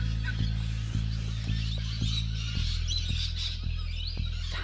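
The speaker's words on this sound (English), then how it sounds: "Hundreds of birds." A dense flock of hundreds of birds at a lake squawks and honks continuously, with sharp repeated calls over a steady low rumble.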